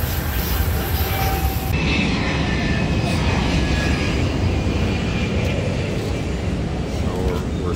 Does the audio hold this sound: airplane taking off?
yes